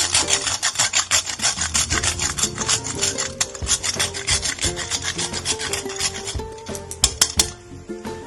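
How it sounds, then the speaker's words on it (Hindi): A whole nutmeg is grated into carrot halwa with quick, rhythmic rasping strokes that run steadily for about eight seconds. The scraping is close and clear, with a few light metallic taps near the end. "थोड़ा सा जायफल घिसूंगी"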